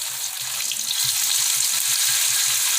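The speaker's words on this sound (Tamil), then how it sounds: "எனக்கு தேவையான லஞ்சுக்கு தேவையான மீன் எல்லாத்தையும் பொரிச்சிட்டு உங்களுக்கு நான் காமிக்கிறேன்" Masala-coated fish fries in hot oil in a home kitchen, a dense, even sizzle with soft bubbling crackles running steadily throughout, close and alone.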